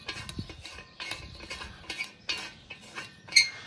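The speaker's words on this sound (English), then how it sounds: "First off, by unscrewing this bung. And screwing in this bad boy." A bung being unscrewed and a part screwed into a V8 car exhaust, heard as a steady run of light metallic ratcheting clicks and taps, close up and quiet, with no voices.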